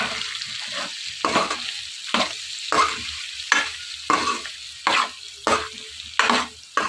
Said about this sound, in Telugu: అల్లం వెల్లుల్లి పేస్ట్ కారం వేసుకుని రెండు మిక్స్ చేసుకుని ఇవి 1 మినిట్ ఫ్రై చేసుకోవాలి.